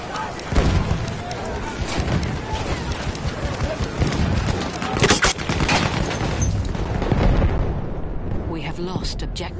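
Battlefield 1 battlefield din of sustained machine-gun bursts and booming blasts, dense and loud throughout, with voices heard in the mix.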